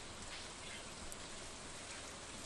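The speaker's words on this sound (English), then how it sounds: "It rained!" Steady, soft rain falling in the farming video game Stardew Valley, a faint even hiss of drops on the ground throughout with no other sounds.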